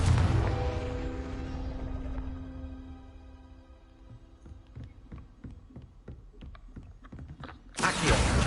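A Confringo spell explosion in Hogwarts Legacy, opening with a loud broadband blast that decays over a few seconds, followed by a series of rhythmic thuds and a second sharp burst at the end.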